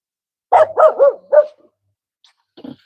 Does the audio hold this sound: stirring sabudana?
no